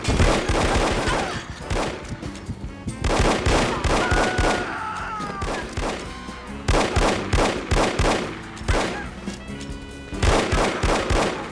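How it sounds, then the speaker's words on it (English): Dense, loud bursts of rapid gunfire from the 2000 spy shooter No One Lives Forever, volleys of sharp shots coming in clustered waves across the whole stretch with brief lulls between and no voices. "Look out for the bullets!"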